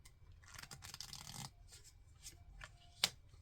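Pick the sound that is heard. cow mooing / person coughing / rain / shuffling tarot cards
shuffling tarot cards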